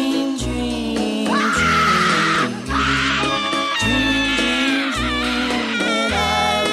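Screaming in a played audio sample, loud sustained wailing cries layered over a pulsing low beat, continuous and dense across the whole stretch.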